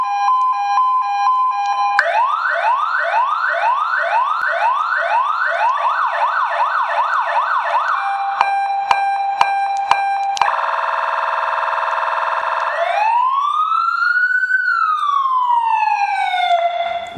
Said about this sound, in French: La sirène, elle s'active via ce bouton. Donc on va appuyer dessus.